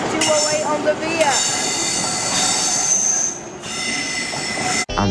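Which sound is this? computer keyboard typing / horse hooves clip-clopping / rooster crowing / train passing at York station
train passing at York station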